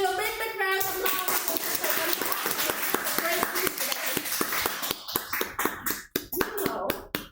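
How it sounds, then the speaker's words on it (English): A Toastmasters club audience applauds after a speech, with brisk, dense clapping running throughout, a voice briefly heard at the start and the claps thinning into a few separate slaps near the end. "Please give you a big round of applause."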